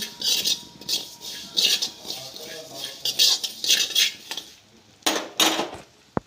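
Light scraping and clinking of a utensil stirring something dry-roasting in a pan over a low flame, in short irregular bursts with brief pauses.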